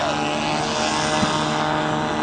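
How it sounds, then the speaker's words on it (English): A radio-controlled model aeroplane flies aerobatic manoeuvres at an outdoor air show, its small engine giving a steady, loud, buzzing drone throughout with no break. "he's truing the aeroplane up to the true vertical as well as flying it like this"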